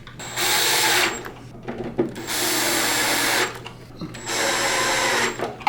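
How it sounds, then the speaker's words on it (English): An electric drill driving screws into the corners of a Prolux CTX vacuum whirs in three long runs, each spinning up and stopping, with brief clicks and pauses between them. "put it on your electric drill, put it in the hole, and just make them snug"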